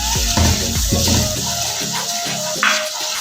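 Water is poured into a pan while making the sugar syrup for makhana halwa, a short splashing pour at the start, then a loud close trickle and bubbling with a faint sizzle.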